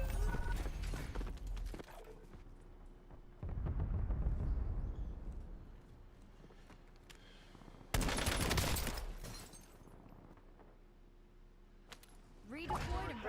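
Bursts of gunfire in the battle-royale shooter Call of Duty Warzone: dense volleys crackle in several loud clusters, with quieter stretches of game ambience between them.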